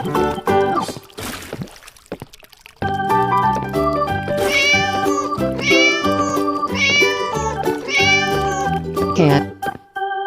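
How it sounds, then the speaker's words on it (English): A cartoon cat gives a run of drawn-out, sung meows in a regular rhythm, loud and close, with musical backing, after a brief opening sound. "cat"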